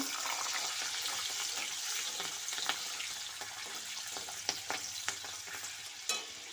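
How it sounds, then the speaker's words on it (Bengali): Oil sizzles steadily in a pan as green beans fry, with a few sharp clinks and scrapes of stirring near the end. "এবার বিনসগুলোও ভেজে নেব"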